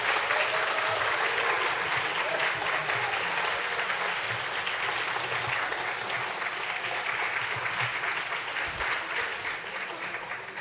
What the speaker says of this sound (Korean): 나오실 때 박수로 환영해 주시면 고맙겠습니다.